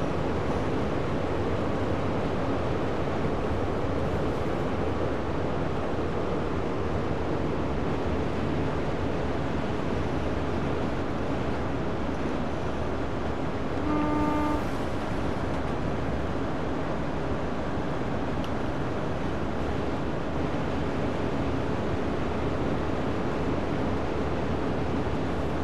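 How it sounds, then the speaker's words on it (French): A high-speed train's engine in Train Sim World rumbles as a steady, dense wash of noise, constant and loud for the whole stretch with no voices. "j'adore le bruit du moteur qui ronfle comme ça"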